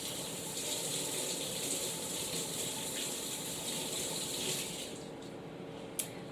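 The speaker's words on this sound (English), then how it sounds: "So I'm just going to rinse off my fingers." Fingers rinsed under a running kitchen tap, a steady close hiss and splash of flowing water that continues throughout, ending with a small knock.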